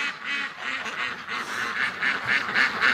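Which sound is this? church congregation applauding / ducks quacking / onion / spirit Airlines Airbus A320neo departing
ducks quacking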